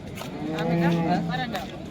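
A cow gives one drawn-out low moo, close by, with faint background murmur around it, at a cattle market in Modnimb.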